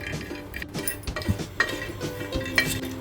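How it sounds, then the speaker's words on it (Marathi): Cut dried Bombay duck fish being roasted on a tawa, with scattered clinks and scrapes of a utensil against the pan and soft shuffling, fairly quiet and close, with no voices. "त्याच तव्यावर कापलेले बोंबील आहेत ते घालायचे बोंबील चांगले भाजून घ्यायचे"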